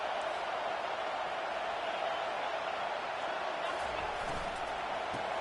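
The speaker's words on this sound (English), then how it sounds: "Listen to the crowd energy here in the early going." Stadium crowd at a college football game, a dense continuous roar of cheering that holds steady throughout, broad and distant-sounding, with no distinct voices breaking through.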